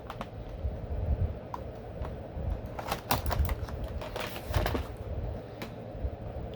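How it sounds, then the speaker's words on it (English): Tape being cut and slit off the bottom of a boxed Super7 TMNT Mutagen Man toy: a run of close, crisp clicks and snips over several seconds with no talking. "Cut the tape off the bottoms."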